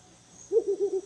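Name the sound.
mottled wood owl call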